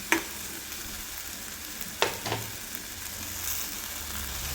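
Roti pizza topping sautéing in a pan makes a soft, steady sizzle, with a couple of light spatula scrapes and taps. No one talks over it.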